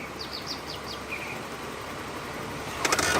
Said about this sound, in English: I think it's one of these little white-throated robins